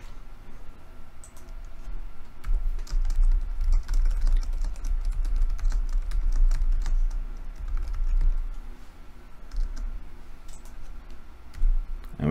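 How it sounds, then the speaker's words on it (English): Typing a short web address on a computer keyboard: a steady, close run of quick key clicks continues throughout, with no talking. "So now we're just going to enter the URL,"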